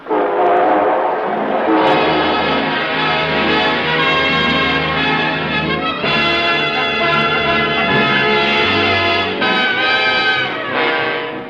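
A train pulls out of the station as a sound effect in a railroad radio show, with a loud, steady rumble of rolling cars, a sounding horn or whistle and a ringing bell, heard with no talking.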